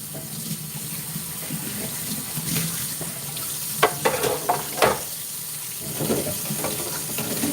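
Dishes and utensils being washed in a kitchen sink under a running tap, with a steady water hiss and several short clinks and clatters of items being handled up close, no talking.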